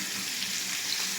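Fish fries in a pan as a steady, even hiss of hot oil, close and moderately loud for about a second with no other sounds.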